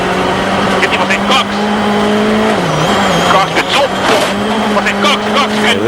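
A WRC rally car in Mexico 2012 drives hard on gravel, engine droning loudly with pitch dips, while stones and grit clatter against the body in sharp bursts under a commentator's voice.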